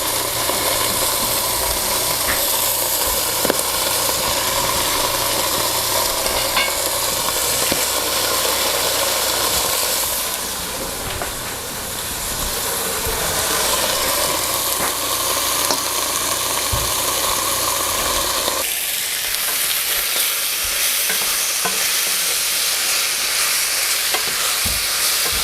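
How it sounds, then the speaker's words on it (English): Beef fries in a pan with a steady crackling sizzle that runs throughout, moderately loud and close, with occasional scraping stirs and a shift in intensity partway through. "so that the beef doesn't spittle all over our French toast"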